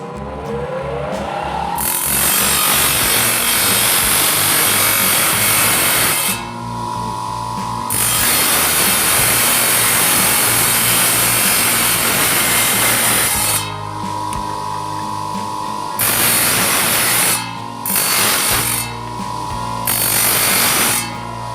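A hand saw cuts through a coconut shell along a marked line with steady, close, rasping back-and-forth strokes, broken by several brief pauses.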